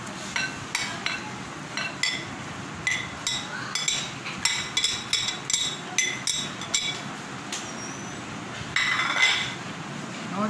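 A spoon stirs lauki (bottle gourd) raita with yogurt and coarse black pepper in a bowl, making a run of quick, bright clinks against the bowl over a soft background hiss.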